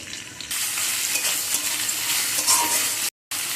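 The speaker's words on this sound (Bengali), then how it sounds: "এবার দিয়ে দিলাম বিনস বিনসটাকেও ভেজে নেব" Green beans sizzle steadily in hot oil in a pan, a loud continuous crackling frying sound with no talk, cutting out briefly near the end.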